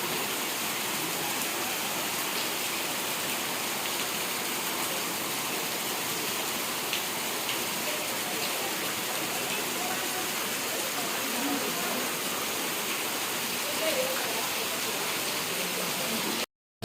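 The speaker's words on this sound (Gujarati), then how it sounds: "પણ વરસાદ બંધ રહેવાનું નામ જ નથી." Heavy rain keeps pouring in an unbroken, roaring wash of noise, loud and even from start to end before cutting off abruptly.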